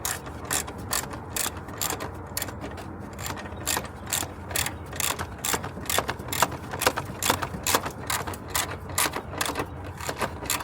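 Ratchet wrench tightening the battery hold-down on a 2016-2018 Chevrolet Silverado, a fast, steady run of close metallic clicks repeating evenly throughout with no talking.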